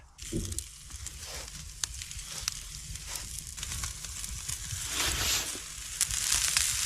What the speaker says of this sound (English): We're gonna set it over this fire and just sear the outside.